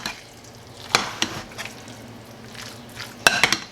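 Chopped onion is stirred in a skillet: a soft sizzle runs underneath while a utensil scrapes and clinks against the pan in a few sharp bursts, close and fairly quiet.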